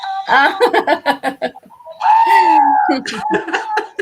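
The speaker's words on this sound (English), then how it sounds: "I got my screaming goat." A screaming goat toy lets out a long, loud bleating scream, with laughter and excited voices around it up close.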